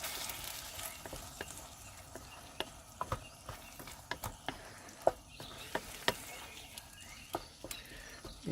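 Curry gets stirred in a pan at a van campsite, with irregular scraping clicks and soft taps from the utensil over a low, faint background.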